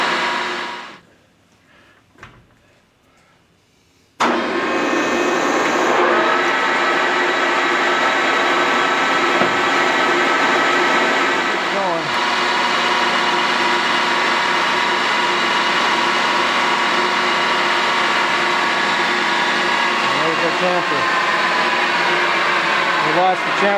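A metal lathe runs loudly and steadily with its chuck reversed, a dense continuous machining whine and hum that starts abruptly after a few seconds of near silence and holds at constant level, with brief tonal sweeps as the feed shifts.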